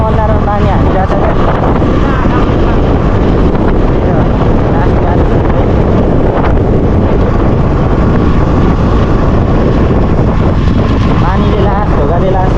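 Heavy wind buffets a microphone during rain, a loud continuous roar of low rumble and gusts that never lets up, with a voice faintly underneath.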